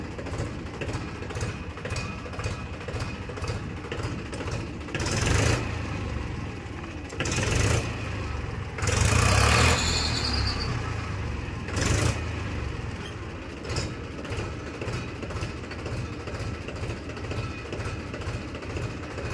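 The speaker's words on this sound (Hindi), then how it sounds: "इंजन इसका भी बढ़िया जवाब दे रहा" A Massey Ferguson 1035 DI tractor's diesel engine runs at a steady idle, a faint low rumble with a few brief louder bursts and rattles mid-way, heard at moderate distance without speech.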